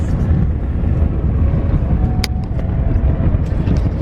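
A car drives along the road toward the airport with a steady, close engine and road rumble throughout, and a brief faint tone partway through.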